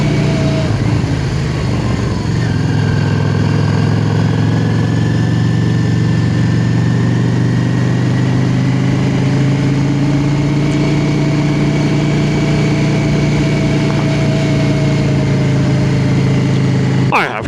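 A motorcycle engine runs steadily while riding toward Wrynose Pass in the Lake District, a loud continuous drone with slowly shifting pitch and wind rush throughout.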